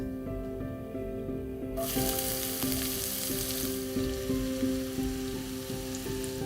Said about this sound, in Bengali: এবার এখানে ফ্লেমটাকে হাই করে আমি ভালো করে পেঁয়াজটাকে ভেজে নেবো